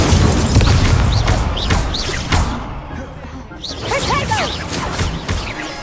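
Incendio fire spell cast in the Hogwarts video game, whooshing bursts and impacts amid combat noise, with a voice talking over the action.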